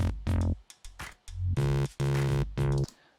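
Ableton Live synth patch modulated by simultaneous saw and sine LFOs, cutting in and out as a series of bright, buzzy tones in choppy bursts, with some notes sweeping downward.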